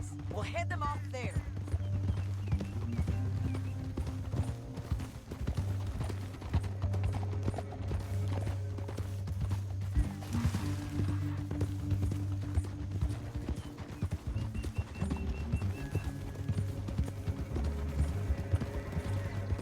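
Horse hooves clop and gallop in Red Dead Redemption 2, a steady rhythmic beat running under a heavy low musical score, with a horse whinnying briefly partway through.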